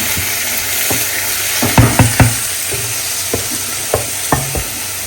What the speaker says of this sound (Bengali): রসুন পেঁয়াজ ভেজে ফেলছি।